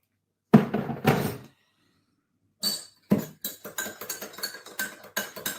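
A teaspoon clatters against a cup while tea is stirred aggressively, with a couple of heavy clinks, a pause, then a rapid run of sharp chinks and knocks.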